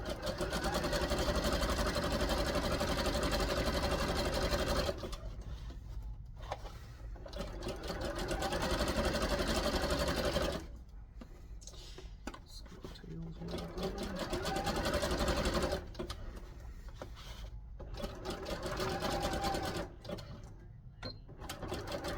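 A sewing machine stitches elastic onto wrestling tights in fast, loud bursts of whirring needle rhythm, stopping and restarting several times with short quiet pauses between runs.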